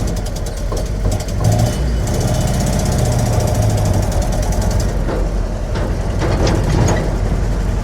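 A 1966 Jeep CJ5 engine running rich rumbles steadily and loudly up close, a continuous rough low drone with some rattling.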